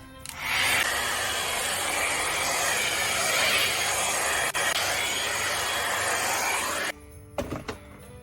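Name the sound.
Head Kandy blow dryer running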